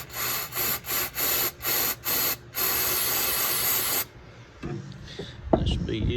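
Mass airflow sensor cleaner sprayed onto the ignition points of an old Kohler K181 engine on a Jacobsen three-wheel utility vehicle, several short close hissing bursts followed by one long continuous spray, then faint handling noises.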